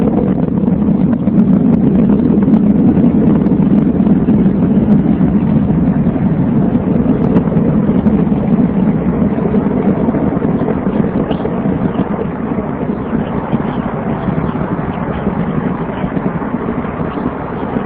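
The rocket launch carrying the New Horizons spacecraft is a loud, continuous low roar and rumble with a rough, wind-like texture that holds steady for the whole stretch, with no voices.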